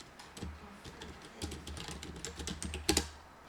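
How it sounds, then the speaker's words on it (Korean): Someone types a search term into a search box on a computer keyboard, giving a quick, uneven run of close, crisp key clicks that ends with a louder tap, heard alone. "여기 네이버의 검색창에다 포토스케이프라고 적어주세요"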